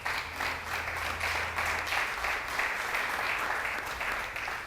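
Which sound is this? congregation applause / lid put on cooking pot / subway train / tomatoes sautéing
congregation applause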